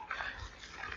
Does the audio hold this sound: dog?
yes